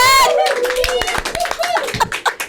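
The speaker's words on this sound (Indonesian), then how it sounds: "Tepuk tangannya mana sih, heboh banget." A lively studio audience claps in a loud, dense burst that tapers into scattered claps, with chuckles and voices talking over it.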